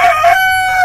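A Pelung chicken at a poultry breeding farm gives a short, loud, close crow, a brief harmonic call heard alone.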